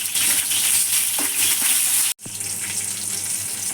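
Chillies fry in oil in a pan for curry leaf chutney, making a steady, bright sizzle broken by one brief silence partway through before the frying continues.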